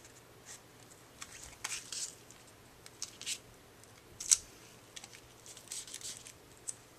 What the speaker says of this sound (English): I'm just going to trim off a little of this, just so it doesn't get stuck in the tape.